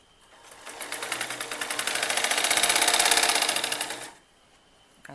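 A sewing machine stitches the hem of a kurti in one continuous run of rapid, even mechanical clatter that swells up, holds steady for several seconds close by, and then stops abruptly.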